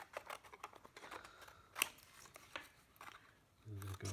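Scissors snipping through paper while trimming a cut-out shape for a craft lesson, a few short crisp cuts between stretches of quiet talk, with some rustling of paper.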